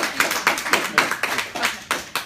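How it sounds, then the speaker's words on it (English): Audience applause for a psychic reading show, a steady burst of many hands clapping with sharp, dense, overlapping claps lasting a couple of seconds. "let's have a round of applause for Shira and Joe."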